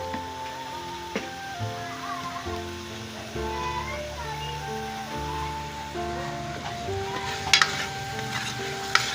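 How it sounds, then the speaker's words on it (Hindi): Potatoes and green chickpeas frying in a pan, a continuous close sizzle with occasional stirring scrapes, under steady background music and a few sharper clatters near the end. "अब इनकी भुनाई करती हूँ, अच्छी तरह भुनाई करके फिर आपसे मिलती हूँ।"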